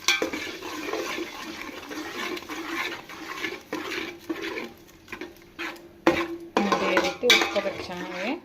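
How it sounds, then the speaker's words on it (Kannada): Ground raw tomato is sautéed in a tempering while a spoon clatters and scrapes around the pan in uneven bursts over a low sizzle, with brief pauses between strokes. "ಹಸಿ ಟೊಮೆಟೊ ರುಬ್ಬಿವಲ್ಲ ಒಗ್ಗರಣೆಯಲ್ಲಿ ಸ್ವಲ್ಪ ಹುರ್ಕೊಳ್ಳೋಣ"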